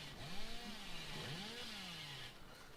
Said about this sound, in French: Et la tronçonneuse